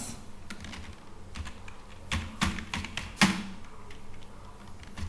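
Typing on a computer keyboard, a run of irregular key clicks with a few louder taps near the end, close and clear with no voices.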